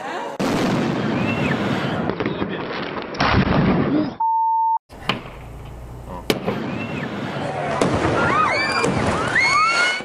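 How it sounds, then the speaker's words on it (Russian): Fireworks being launched, with sharp bangs and crackling bursts, whistling rising tones and a brief electronic beep in the middle, loud and close with abrupt cuts between shots. "А ведь молодые люди хотели всего лишь запустить фейерверк."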